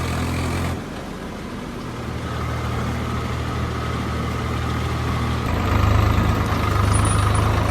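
A Swaraj 744 tractor engine runs steadily close by, a continuous low diesel drone that shifts in tone partway through and grows a bit louder toward the end.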